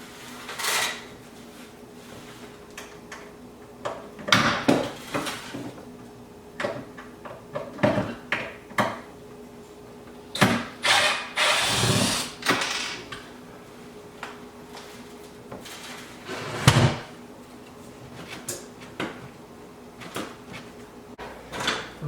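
Screw being removed from a kitchen cupboard during lifting, heard as scattered knocks, clicks and clatters of hardware and wood, some sharp and close, with quiet gaps between bursts.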